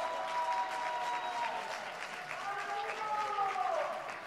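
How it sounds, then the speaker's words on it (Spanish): A home crowd at a Spanish wheelchair basketball league game applauds both teams, sustained clapping filling the arena while a commentator talks over it. "Los aplausos de la parroquia local para uno y otro equipo."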